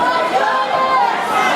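A loud indoor crowd at a high-school state wrestling tournament, a dense, sustained roar of many voices shouting and cheering together for North Andover.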